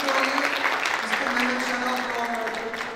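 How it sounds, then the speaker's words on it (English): Applause from a conference audience for a guest speaker, a broad steady clapping wash that tapers slightly, with some voices mixed in. "Please, can you give him a big applause?"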